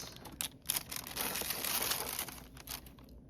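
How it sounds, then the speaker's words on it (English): A plastic piping bag for cake decorating crinkles and rustles up close as it is handled and folded, a continuous crackly texture with small louder crunches, with no talking over it. "Sorry, this is a really noisy bag."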